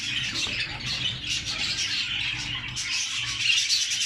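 Pet birds of a rainbow-coloured breed chirp and squawk in a cage, a dense, steady stream of bright twittering calls close by.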